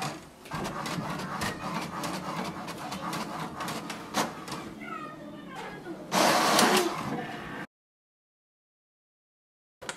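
An HP DeskJet 4123e printer makes a copy, giving several seconds of busy mechanical whirring and clicking, a louder grinding burst near the end, then silence.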